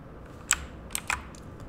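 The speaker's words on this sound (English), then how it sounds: "you have to simply go ahead and type this code" A few quick keystrokes on a computer keyboard, crisp and close, coming as one tap followed by a short cluster of clicks against a quiet background.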